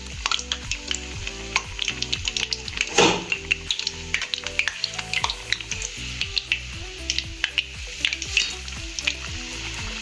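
Steady crackling sizzle of bread pakoda frying in hot oil, close and continuous, with small pops and drips throughout and no talking.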